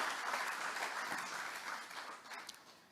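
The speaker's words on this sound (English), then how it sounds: "Please give him a round of applause." An audience at a summit welcome in South Africa gives a round of applause, a steady wash of clapping that is fairly quiet and distant, slowly fading toward the end with no talk over it.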